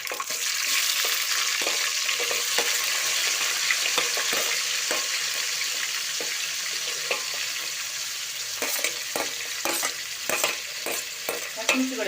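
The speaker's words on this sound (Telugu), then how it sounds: "చిచ్చుట అనగానే ఇంక ఆనియన్స్ వేసి" Onions fry in oil with mustard and cumin seeds, a steady close sizzle with frequent spatula scrapes and knocks against the pan, the stirring growing busier toward the end.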